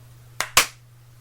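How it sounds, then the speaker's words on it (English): Two sharp hand claps for syncing cameras, the second louder, in a quiet room over a low steady hum. "Clap in 3, 2,"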